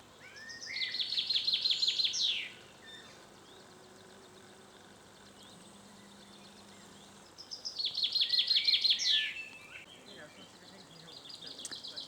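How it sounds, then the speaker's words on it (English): Blackbird singing in open countryside beside a walking route: two clear bursts of fluting, warbling song a few seconds apart, moderately near, over a steady low outdoor background hum. "And a blackbird as well."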